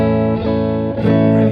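A clean, unprocessed electric guitar plays sustained bass-register notes with no reverb, changing pitch a couple of times, close and steady.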